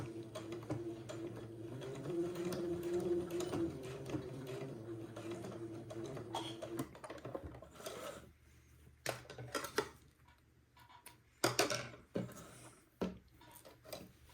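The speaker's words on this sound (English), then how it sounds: "I'm going to tap that elastic into place at the end of the casing. Just with some back and forth stitches." A sewing machine makes back-and-forth stitches to tack elastic into place at the end of a casing, a run of mechanical whirring followed by scattered clicks and taps, close and quiet, with no talk.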